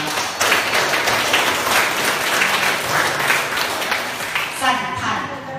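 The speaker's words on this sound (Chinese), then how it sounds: "赏赐自己的掌声，对不对？" An audience at an evening members' gathering of a cultural centre in Muar, Johor applauds, a dense, sustained clapping from a crowd that carries on throughout, with a voice over it.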